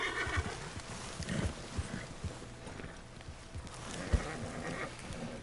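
A horse in the Red Dead Redemption 2 video game whinnies and snorts, with clip-clopping hooves and shuffling movement throughout, fairly close and steady with a louder thump near the end.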